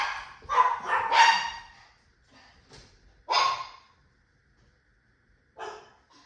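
Small dogs bark in short clustered bursts, two or three yaps together, then a pause, another sharp bark and a final yip, fairly close with quiet gaps between.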